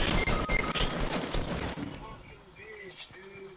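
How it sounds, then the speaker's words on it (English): Dense rapid gunfire from Fortnite battle royale play rattles loudly for about two seconds, then fades into sparser distant shots while players talk over it. "they're getting shot up"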